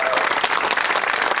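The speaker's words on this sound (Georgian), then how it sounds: "აპლოდისმენტები ამ არაჩვეულებრივ ფეხბურთელებს." A studio audience at a Georgian late-night television show breaks into dense, steady applause, many hands clapping at once, loud and close, with no voices over it.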